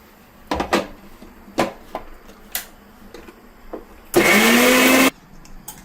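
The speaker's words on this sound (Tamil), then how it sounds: "நம்ம இதை வந்து மிக்சியில் அரைச்சிடலாம் நல்லா மையா" A mixer grinder blends tomato to a smooth paste in a short loud burst of about a second, its motor pitch rising steadily. Lighter kitchen clatter and knocks come before it.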